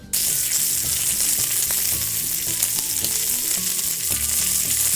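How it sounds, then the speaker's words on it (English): Shrimp sizzle and fry loudly in a hot pan on a stove, a dense continuous crackle with faint tonal clinks and hums in the background and no talking. "go over to the stove to cook our shrimp"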